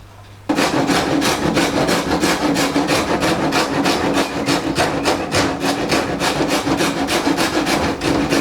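Steady back-and-forth rasping of a saw or file trimming a wooden panel for a catamaran boat build, rhythmic strokes repeating evenly, close and loud, starting abruptly after a quiet moment with no talk.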